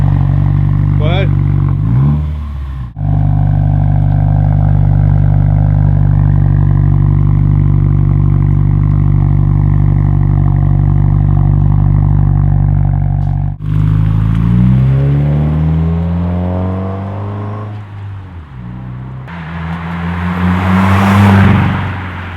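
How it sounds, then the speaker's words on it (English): A Subaru WRX fitted with an aftermarket exhaust idles with a loud, low, steady rumble, then revs in several rising and falling bursts near the microphone, with a short break partway through. "So this is an exhaust if you kind of want to stay low key, but still have some of that nice little rumble to it"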